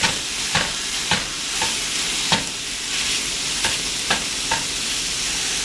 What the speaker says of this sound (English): I'm just cooking up the sausage